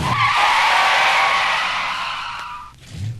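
A 1965 Pontiac GTO's tires squeal in a long loud skid as it brakes hard from 100 at the GM Proving Grounds, the screech fading as the car stops.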